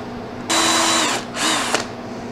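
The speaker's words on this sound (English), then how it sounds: "Drilling into your meatballs with mushroom sauce is not a requirement" A power drill bores into frozen meatballs in mushroom sauce during a freeze-drying batch, two loud high-pitched whirring bursts with a short pause between them and a sharp click at the end.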